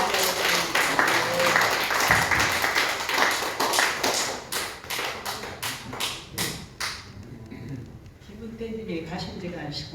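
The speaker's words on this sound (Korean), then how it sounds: "박수로 맞이하겠습니다." An audience at a church scholarship ceremony gives a burst of applause that rises to a run of sharp claps and then fades, with voices heard around it.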